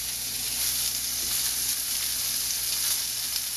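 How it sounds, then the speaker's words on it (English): Pork searing over high heat in a pan for kimchi fried rice gives off a loud, dense, continuous sizzling hiss that holds steady throughout, with no talk. "We want this pork to really sear a bit."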